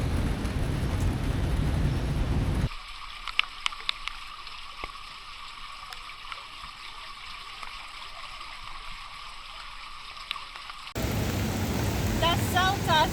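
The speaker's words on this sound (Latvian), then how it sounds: "Tas nekas, ka lietus līst." Steady rain falls in Kuala Lumpur, a broad even hiss throughout with an abrupt drop into a quieter, more distant wash mid-clip, then louder again with faint bird or insect chirps near the end.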